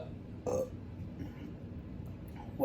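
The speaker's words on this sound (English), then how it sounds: "that was a chili and beer burp if I ever heard one" A short, low burp sounds close up, followed by a quieter stretch of room noise and a brief bump at the end.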